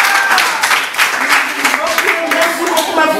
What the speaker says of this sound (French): applaudissez pour elle!